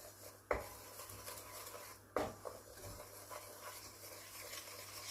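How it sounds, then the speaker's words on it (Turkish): Flour being dry-roasted in a pot while stirred with a utensil, close and quiet, with two sharp scraping knocks against the pot followed by soft continuous rubbing and faint sizzle. "Unun kokusu çıkana kadar kavuruyorum arkadaşlar."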